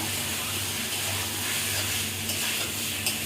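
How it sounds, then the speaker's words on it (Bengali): Parboiled potatoes and papaya stir-fried in a pan of cooked-down spiced masala, giving a steady close sizzle and hiss with faint stirring scrapes throughout. "মশলাগুলো কষিয়ে নিয়েছি। এখন আমি হচ্ছে এই আলু আর পেঁপে দিয়ে দিলাম।"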